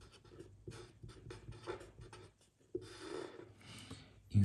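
Pen or pencil writing out a math solution on paper, a faint, close scratching that runs in short strokes and bursts with small gaps, steady and quiet throughout.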